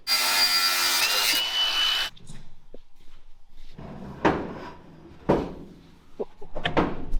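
A saw cuts a quarter inch off a part for a custom tube front end on a burnout car, a loud rasping run of cutting followed by scattered knocks and scraping handling sounds.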